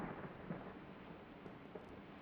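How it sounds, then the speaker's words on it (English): In the Anomaly Experiment horror video game, a storm rolls on with a soft, continuous rumble of distant thunder and rain hiss, faint and even, with a couple of slight crackles and no voices. "So thunder and lightning."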